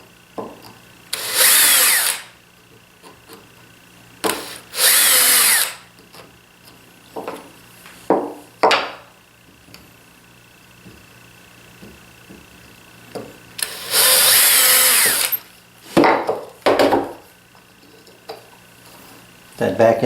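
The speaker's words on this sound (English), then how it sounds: "And just drill a starting hole" Power drill boring a starting hole in wood while building a printer table, heard in several loud bursts of a few seconds each, separated by pauses and short sounds of handling.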